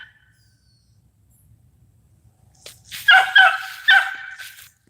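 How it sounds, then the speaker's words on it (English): A dog barks three times in quick succession, fairly close, after a few seconds of near silence with faint low background noise. "Baby's gonna be doing a lot of barking"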